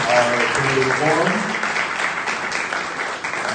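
Audience clapping at a community candidate forum in Monroe County, a dense steady wash of many hands with a voice speaking over the first second or so.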